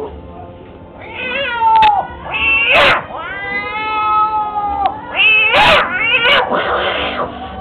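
A human voice imitates a cat, giving several drawn-out, wavering meows in a row, loud and close.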